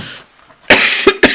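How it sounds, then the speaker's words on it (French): A woman coughs sharply three times in quick succession, close and loud, after a brief near-silent pause, with no talk over it. "Je m'excuse hein, pour la toux"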